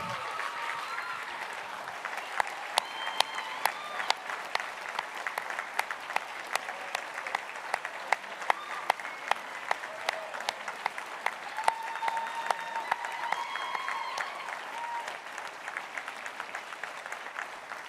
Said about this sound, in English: Diane Fleming, a huge round of applause.